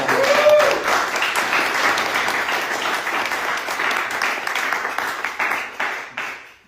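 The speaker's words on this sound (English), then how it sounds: "You gave him much bigger applause than me." Applause from the audience at a lecture to a Jewish community in Amsterdam, a dense, steady round of clapping that fades out over the last second.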